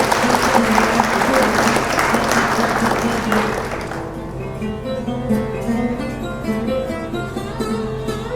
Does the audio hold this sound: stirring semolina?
no